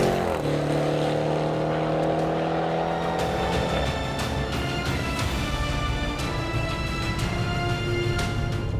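A 2018 Range Rover Sport SVR engine revving loudly, a rising roar that climbs then drops into a rough, crackling growl, sustained and close for nearly nine seconds.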